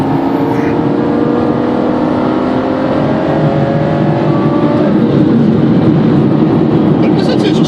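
A Ferrari FF engine revving toward the limiter from inside the cabin, a loud sustained drone whose pitch climbs steadily and then eases, with voices talking over it.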